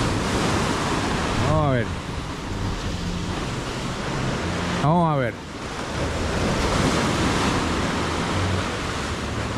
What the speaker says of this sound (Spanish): Está bravo el mar.